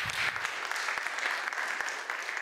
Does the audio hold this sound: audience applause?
yes